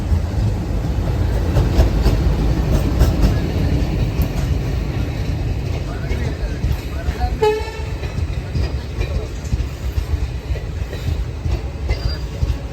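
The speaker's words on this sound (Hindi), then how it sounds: "और अभी हमारी ट्रेन जो है वो उक्सी रेलवे स्टेशन से बाहर निकल रही है।" A Duronto express train pulls out of a station on the Konkan route, its steady loud rumble of wheels on rails filling the whole stretch, with a brief squeal or tonal whine midway.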